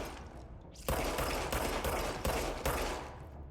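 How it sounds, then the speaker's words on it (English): Rapid gunfire in the video game Control tears at books, a loud run of closely spaced shots in an irregular burst-like rhythm, with the sharp cracks standing out above a dense background roar. "Oh my god, you can shoot the individual books."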